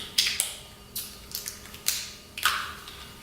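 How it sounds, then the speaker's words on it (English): Plastic lug nut covers are pried off a Tesla Model 3 wheel with the small Tesla removal tool, giving a string of sharp plastic clicks and snaps in uneven bursts, close and fairly quiet. "I'm just going to use the tool that Tesla gives you to remove these plastic lug nut covers"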